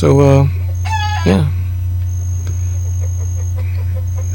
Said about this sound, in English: I don't know if you can hear that, but there's a chicken outside.